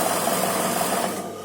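A sewing machine runs steadily while stitching the sides of a frock, a rapid, even mechanical whirring with fast ticking, loud and close, slowing slightly at the very end.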